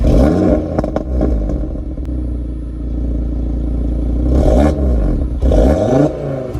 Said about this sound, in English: this is what the Audi TT RS sounds like.